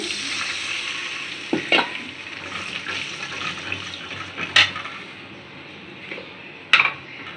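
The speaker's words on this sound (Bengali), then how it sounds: "সুন্দর করে ভাজা ভাজা করে লই, তারপরে এখানে মশলা দেবো।" Onions frying in a pan for loitta shutki bhuna, a steady close sizzle punctuated by a few sharp scrapes and clinks of a stirring utensil, with no talking.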